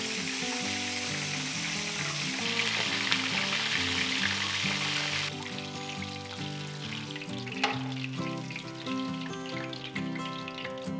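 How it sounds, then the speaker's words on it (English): Chicken livers frying in a pan of hot grease, giving a steady, dense crackling sizzle with scattered sharp pops and no voices. "It's really great if you have a protective screen that you can put over the pan while it fries."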